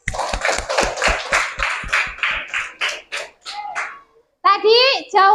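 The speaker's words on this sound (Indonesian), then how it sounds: "kalau tidak beri tepuk tangan untuk kelompok tulip" Rhythmic classroom clapping in an Indonesian primary school lesson, a patterned burst of sharp, evenly spaced claps given to group Tulip, fading into children's voices and chatter.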